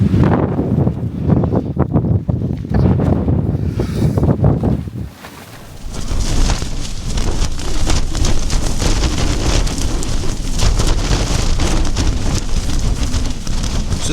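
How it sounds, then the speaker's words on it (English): Strong wind blasts across a Lake District mountain summit, roaring and buffeting the microphone in heavy gusts that dip briefly before surging back louder and fuller, with no talking. "now It's freezing and windy."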